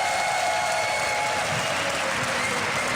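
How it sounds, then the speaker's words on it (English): A tournament crowd at a live StarCraft esports quarterfinal cheers and applauds loudly and continuously, a dense sustained roar of clapping and shouting with no talk. "the fact that people are cheering for her so heavily"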